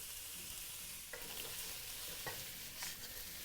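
Spring onion stems and prawns stir-fried in a pan with garlic butter and soy, a quiet continuous sizzle broken by a few sharp scrapes and clatters as they are moved around.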